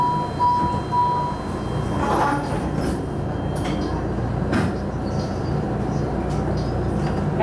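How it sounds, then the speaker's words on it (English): A MARTA Red Line subway train in Atlanta runs steadily on board, a continuous low rumble with a brief door-related clatter partway through, and no talk over it. "Train doors closing."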